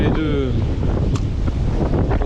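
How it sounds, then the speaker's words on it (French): Strong wind buffets the microphone while someone lure fishes from a boat near rocky domes in a channel, giving a constant loud roar from start to finish with faint voice-like sounds underneath. "Mais le vent est vachement gênant."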